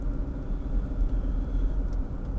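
A steady low engine rumble fills a car cabin from inside the moving vehicle, constant and fairly loud with no talking.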